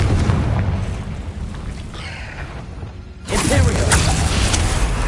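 A magical Confringo blast erupts in Hogwarts Legacy with a deep rumbling boom and whooshing burst, following a sustained rumble of combat noise that swells loudly again partway through.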